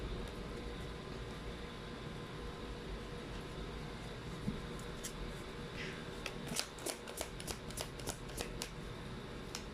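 Tarot cards shuffled during a card reading, with a steady noisy hum for most of the stretch and then a run of crisp, close clicks and flutters toward the end; no one speaks.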